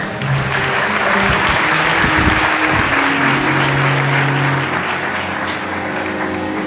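Congregation applauding during a worship service, a steady dense wash of clapping that fills the whole stretch at close range, with low tones running underneath.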